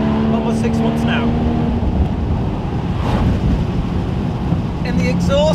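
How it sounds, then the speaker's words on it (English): A Porsche Boxster Spyder on the road through the Scottish Highlands, its exhaust droning steadily beneath heavy wind rush and road noise, the pitch climbing toward the end. "the exhaust note on this puppy, it just sings and sings and sings"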